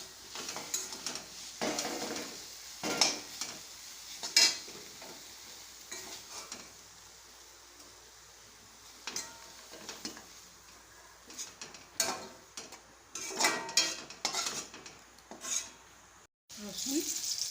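Bean leaf greens are stirred and fried in a pan, with close, irregular scraping strokes over a soft continuous sizzle and no voices.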